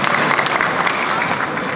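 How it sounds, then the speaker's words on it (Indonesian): Audience clapping steadily at a Hanura party anniversary event, a dense, continuous wash of hands held at a fairly loud level for the whole short stretch, with no speech on top. "Tepuk tangan buat saya."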